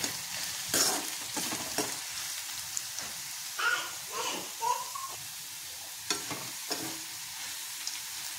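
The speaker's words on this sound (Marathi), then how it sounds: "हा बटाटा छान असा ब्राउन होऊस तोपर्यंत, असा गोल्डन होऊस तोपर्यंत तळून घ्यायचा।" Potato pieces frying in hot oil until golden brown, a steady background sizzle broken by repeated stirring scrapes and clinks of a spoon against the pan, close and moderately loud, with no talking.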